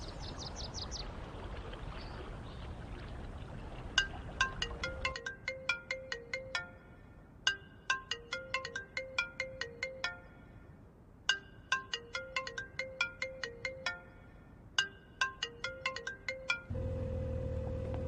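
A phone ringtone plays through repeated cycles of a bright melodic pattern, loud and close, ringing on with no one answering and no talking.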